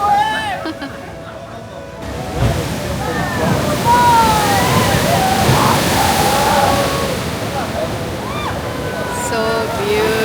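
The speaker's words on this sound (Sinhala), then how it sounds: "ඔන්නෝම තමයි වතුර පිරෙන්නේ" Sea water sloshes and rushes steadily into an ocean rock pool at a beach, loud and continuous, with crowd chatter and bird calls in the background.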